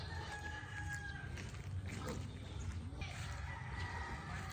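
Chickens cluck and a rooster crows amid steady, noisy ambience at a farm chicken house of about 600 birds, with the crowing rising in the first couple of seconds.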